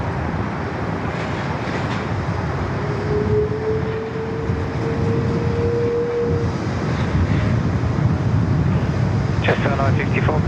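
An Air Asia airliner in special livery at Sydney Airport, heard from the ATC tower as a continuous, fairly distant jet roar that swells slightly and holds steady throughout.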